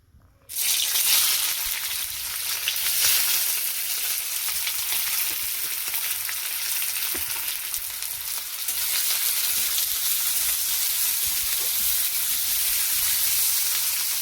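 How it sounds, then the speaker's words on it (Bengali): Onion frying in a hot kadai, a steady dense sizzle that starts abruptly after a brief quiet moment and holds loud and close throughout, with faint stirring scrapes. "পেঁয়াজটা একটু ভেজে নেবো ভালো করে।"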